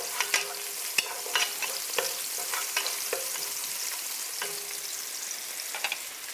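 Six cloves of pounded garlic sizzle as they fry in a pan, with steady crackling and intermittent scraping clicks from a spoon stirring them, close and moderately loud, with no talking.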